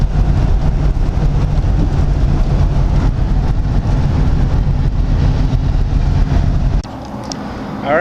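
A 1997 Honda CR-V that is strapped down on a trailer being towed on the road, with steady loud road and engine rumble that drops off abruptly near the end.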